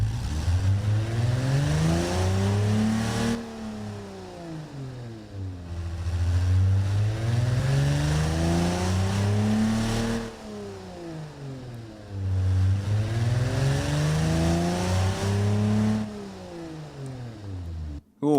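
A car engine in the driving game Automation, a custom BMW 507 competitor, revs loudly and repeatedly, each rising and falling sweep climbing to a high growl before dropping back, heard close with no talking.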